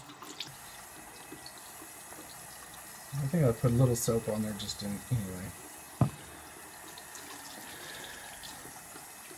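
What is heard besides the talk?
warm tap water rinsing a resin 3D print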